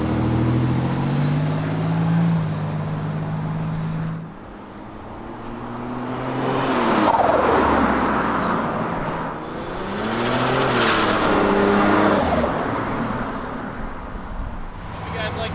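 A 1987 Buick Grand National drives past with a loud engine note that rises and falls as it accelerates, shifts, and accelerates again. Passing road noise swells around it, and a voice talks in the background.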